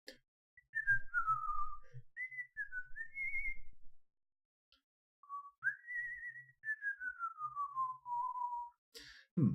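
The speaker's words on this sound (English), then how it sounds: "And then I ended up whistling something entirely different. The Phantom of the Opera." A lone person whistles the Phantom of the Opera theme, clear gliding melodic phrases broken by a short pause, with soft background bumps and a sudden clatter at the end.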